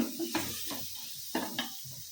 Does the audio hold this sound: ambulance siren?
no